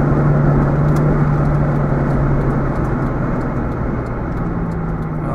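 A car engine drones steadily from inside the cabin while driving, with a low hum and road noise easing slightly as the car slows into a U-turn.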